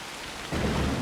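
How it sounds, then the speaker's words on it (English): Rain pattering onto a pond in the video game Assassin's Creed Shadows, a steady hiss that swells sharply about halfway through into a louder, denser downpour with a low rumbling undertone. "The raindrops are actually hitting the surface."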